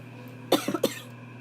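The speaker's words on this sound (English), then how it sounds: "Sorry, had a little cough there." A single person gives a short, close cough in two or three quick bursts over a faint steady hum, with a quiet room before and after.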